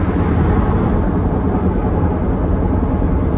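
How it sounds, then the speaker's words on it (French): Steady, loud rumble of a Lamborghini Gallardo driving on a flat rear-left tyre, with a constant low road and engine drone throughout and no voices. "Bah je crois qu'on a crevé."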